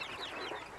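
Farm chickens being raised alongside quail cluck softly in a brief, faint, continuous murmur.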